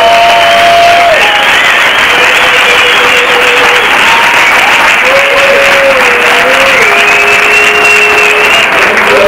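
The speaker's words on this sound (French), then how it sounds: "il faut vraiment qu'on leur donne une bonne main d'applaudissement." Loud, dense crowd applause for competition delegations at a McGill machine event, sustained steadily throughout with whistles and cheering riding over the clapping.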